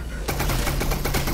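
A rapid burst of automatic gunfire in Half-Life: Alyx starts abruptly after a brief pause and continues loud and sustained to the end.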